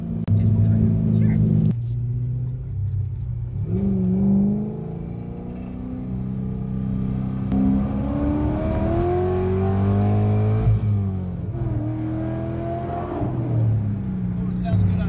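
Corvette engine revving and rumbling while driving under a bridge, a steady throaty drone swelling with throttle, heard from inside the car beneath people chatting.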